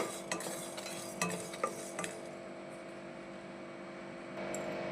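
Whole spices and bay leaves sizzle gently in a pan over a medium flame, with a few sharp clinks of a spoon stirring, then a steady low hiss.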